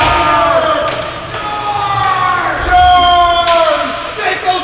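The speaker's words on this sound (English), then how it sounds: "Hearing some cheering from the fans tonight." Fans at a roller hockey championship game cheer and shout in a small arena, a fairly loud burst of mixed voices with whistles and thuds from the rink, continuing through the whole stretch.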